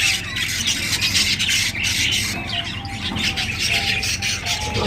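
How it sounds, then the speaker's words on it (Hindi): Pet parrots chirping and squealing in a steady, busy chorus, with high bird calls throughout and a constant low background hum, close by and fairly loud with no talking. "ये देखो तोती अंदर बैठी है।"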